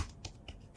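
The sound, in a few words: computer keyboard Enter key being pressed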